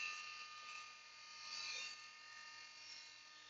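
A Dremel rotary tool engraving glass gives a steady high electric whine, faint and continuous with a slight rise and fall in pitch, heard alone without talk.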